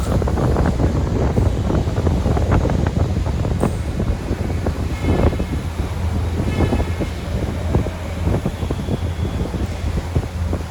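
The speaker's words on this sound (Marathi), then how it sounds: "कितीच बोटीचं स्पीड आहे पाहू शकता तुम्ही. आणि हवा तेवढी लागत होती ना" Strong wind roars steadily past a speed boat crossing open sea from the Gateway of India to Mandwa, Alibag, with engine drone and splashing water beneath and occasional buffeting gusts throughout.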